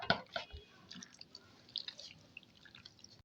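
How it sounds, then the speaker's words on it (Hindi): Boneless chicken pieces being stirred into a wet marinade by hand, quiet squelching and sticky dripping sounds in short bursts, close and faint. "अब मैं इसको मिक्स करूँगी अच्छे तरीके से।"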